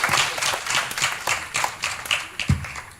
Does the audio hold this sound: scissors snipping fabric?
no